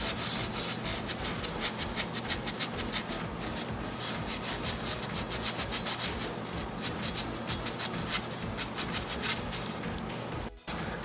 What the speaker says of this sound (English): we'll get a little bit of sandpaper now, okay, and we're going to go on the hub here just to clean everything super good again